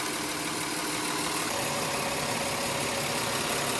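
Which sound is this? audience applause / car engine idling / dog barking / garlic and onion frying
car engine idling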